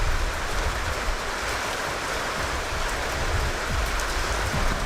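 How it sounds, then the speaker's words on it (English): Steady rain pouring down in the mountains, a dense, continuous hiss of drops hitting surfaces, loud and close with no voices. "it's raining here"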